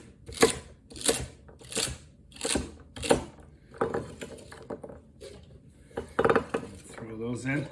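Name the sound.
knife rough chopping vegetables for chicken noodle soup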